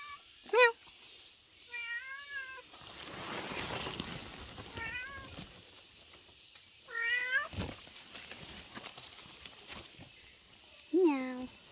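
A cat meows repeatedly while following people through a hillside paddy field during the rice harvest in Pitas, Sabah, with several distinct rising meows spread across the clip. People talk nearby in between.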